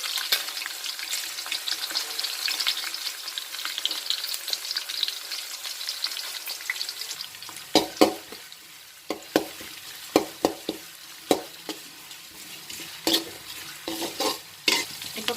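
Onions frying and being stirred in a pan for gobi fried rice, steady sizzling at first, then repeated sharp scrapes and clanks of a spoon against the pan over a softer hiss.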